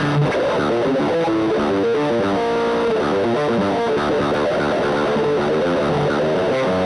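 Electric guitar played with a heavy, distorted lead tone through an amp-free direct recording setup, a dense continuous sustained riff filling the whole stretch.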